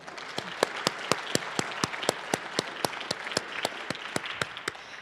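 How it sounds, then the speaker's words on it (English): Audience applause for a guest at an evening speaking event: a steady, rhythmic run of sharp claps, about four a second, close and fairly loud, continuing for the whole stretch with no voices over it. "How about a round of applause for Matt Kennedy?"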